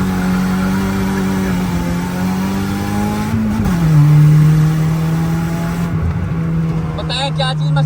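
Loud, close engine of a 1500cc Suzuki FX or Swift GTi race car pulling hard after an upshift, its tone rising, dipping at the gear change, then climbing steadily again with faint voices underneath.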